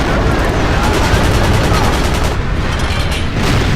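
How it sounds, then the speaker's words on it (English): Explosions and gunfire in a Battlefield game: dense, continuous booms and rapid shots crackle loudly and close together, forming a constant barrage of combat noise. "Bombs are falling around us, but I don't want to let the Americans surround us."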